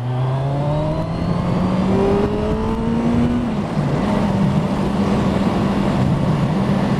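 A motorbike rides along a road on a sunny day, its engine droning steadily close by while the pitch rises through the gears and then settles into a constant hum, with wind noise underneath.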